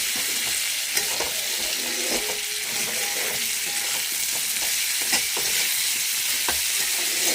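Food frying in a pan, a steady broadband sizzle with occasional stirring clicks and scrapes, close and continuous with no talking.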